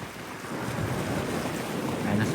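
Strong ocean waves break on a beach in a steady, close rushing roar with wind buffeting the microphone, no voices.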